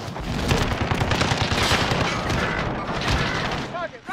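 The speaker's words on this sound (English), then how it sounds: "Oh shit, they're shooting at me." Dense gunfire in the battle royale video game Call of Duty Warzone on the Verdansk map, with rapid automatic bursts and booms rattling continuously for several seconds, loud and close, with voices talking over it.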